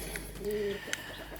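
Domestic hens on a small homestead farm give a brief, soft cluck or coo over low background hum, with a single short tonal note and a faint click.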